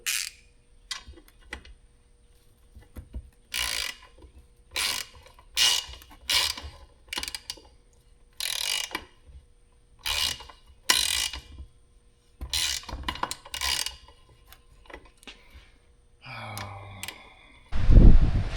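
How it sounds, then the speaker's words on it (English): A tap wrench cuts threads into a port on an LS water pump, giving a series of close metallic clicks, ratchety creaks and scrapes in irregular bursts, ending in a louder clunk. "Okay, the second hole we tapped a lot better."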